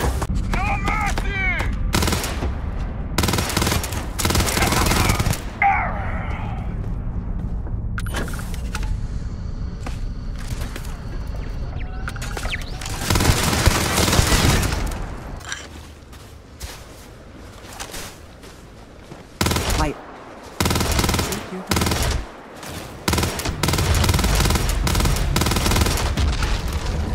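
Video game shootout with loud bursts of gunfire and rapid automatic volleys, dense through most of the stretch with a quieter gap near the middle, mixed with in-game effects and a voice talking at times.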